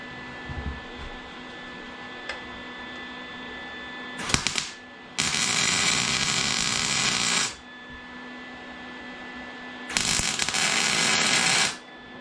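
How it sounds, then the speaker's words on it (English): Two bursts of welding as a valve is fused onto a small motorcycle sculpture: a short crackle followed by two long, steady buzzing hisses of a few seconds each, close and loud, separated by a quiet workshop hum. "I'll weld another valve on it right here"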